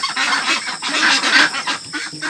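A flock of domestic ducks in a lit shed quacks and honks in a busy, overlapping chorus, loud and close, with rapid repeated calls throughout.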